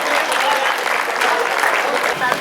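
Sustained audience applause at a Hindi poetry recital (kavi sammelan), a dense steady wash of clapping lasting a couple of seconds with no voices on top.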